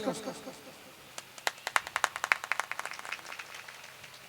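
Audience clapping at an Urdu poetry gathering, a scattered burst of handclaps that builds into a brief ragged round and thins out, with a voice speaking at the start.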